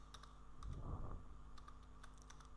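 Quiet keystrokes on a computer keyboard while coding with Tailwind CSS, a handful of light clicks spread across the clip with a soft thump in the middle, heard alone at low level.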